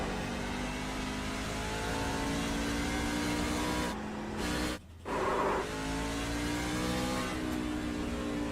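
Race car engines in the iRacing simulator whine and rise in pitch steadily, with a brief drop and cut around a gear shift before the revving climbs again, moderately quiet and with no voices.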